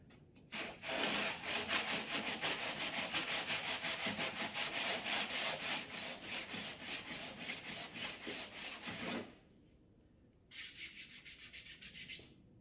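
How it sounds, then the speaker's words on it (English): Body filler on a 2006 Mazdaspeed 6 fender flare being sanded by hand with sandpaper, steady rhythmic rasping strokes for several seconds, then a pause and a shorter burst of strokes, close and alone. "Let's just grab a piece of sandpaper and see."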